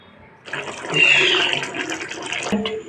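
Water pours into a cooking pot of spiced potato curry: a sudden gush begins after a short quiet lead-in, rises to a bright, splashing stream, and then tapers, ending with a clunk.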